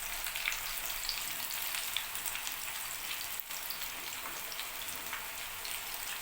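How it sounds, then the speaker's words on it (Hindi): Vegetable pakoras fry in hot oil on a lowered flame, giving a continuous, faint, crackling sizzle with scattered pops and no voices. "तो ये देखें पकौड़े हमारे फ्राई हो गए"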